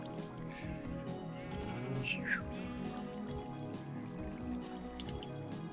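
Water trickles and drips steadily in the video game Minecraft, a faint continuous liquid sound under someone speaking German.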